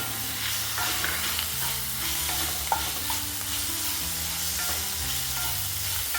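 Tomato dropped into a pan of sautéed ginger and garlic for a dhaba-style paneer bhurji, giving a steady, close sizzle of frying with stirring scrapes and a few small clinks throughout, no talk.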